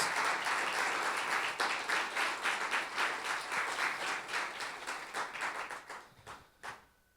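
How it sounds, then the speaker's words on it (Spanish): A church congregation applauds together, dense clapping that gradually thins into scattered claps and fades out near the end. "Si va a aplaudir al Señor, apláudale con ganas."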